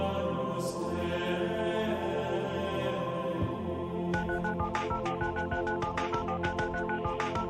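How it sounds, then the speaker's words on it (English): Telephone dialing tones sound inside a Chinese pop song, a quick run of bright electronic beeps laid over the continuous music partway through. "It's a phone tone."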